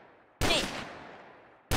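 Gunfire from a weapon in the Minecraft video game during an elephant hunt: one sharp, loud shot with a long fading tail, then a second shot cutting in right at the end.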